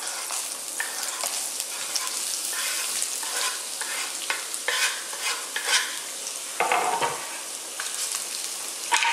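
Onions, garlic and chili hit hot peanut oil in a wok, giving a loud, steady sizzle with scraping stirs and crackling bursts that continue throughout.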